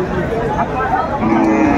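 Cattle, including thin, bony cows, low at the Aftabganj livestock market. A moo sounds close over a busy murmur of crowd chatter.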